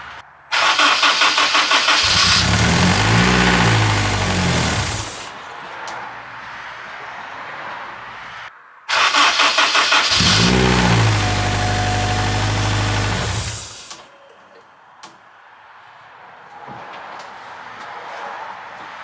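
A Honda S2000 being built with a big turbo cranks and fires up twice, each time roaring loudly for a few seconds before settling into a quieter idle and then cutting out.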